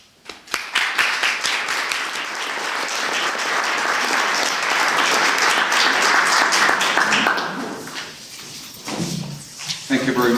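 A lecture-hall audience applauds to welcome lecturer Ian Wallace at an artists' lecture series. The clapping is loud, dense and sustained for about seven seconds, then fades into scattered claps and a brief voice.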